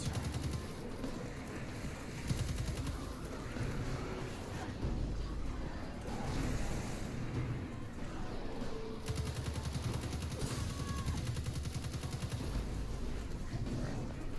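Rapid bursts of automatic gunfire from a PC video game crackle loudly and almost without pause, dense and continuous, with faint talk underneath.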